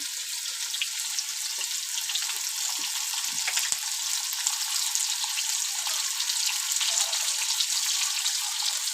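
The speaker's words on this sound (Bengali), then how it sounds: "আলুটা আমি একটু ভেজে নেব।" Potatoes frying in a pan while a fish curry is cooked, giving a steady, close, loud sizzle with crackling that holds evenly throughout with no talk.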